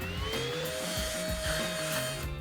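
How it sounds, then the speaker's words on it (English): A vacuum cleaner sucks crumbs and debris from beneath couch cushions, its steady whining hum broken by repeated rhythmic scraping strokes of the nozzle across the fabric, close and continuous. "vacuum up all those crumbs and treasures"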